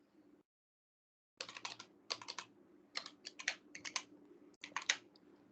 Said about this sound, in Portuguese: vou pedir para o cara digitar o preço